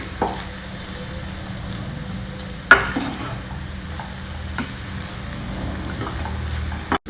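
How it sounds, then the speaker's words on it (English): Rice gently mixed with an amla mixture, giving a soft, steady stirring and scraping texture throughout, with one sharper knock near the middle and no talking. "Now with a gentle hand, mix everything well together"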